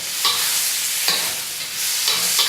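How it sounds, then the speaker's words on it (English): A pan of food fries steadily over high heat with a bright, continuous sizzle, broken by three scraping stirs about a second apart, close and loud with no talking. "Give that a stir."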